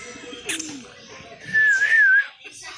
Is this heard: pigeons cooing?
yes